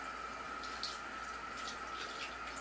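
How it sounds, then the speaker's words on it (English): A constant thin stream of tap water runs into a film developing tank during the rinse, a quiet, even hiss that stays steady throughout with no voices. "just have a nice constant stream of water going into the tank while I rinse"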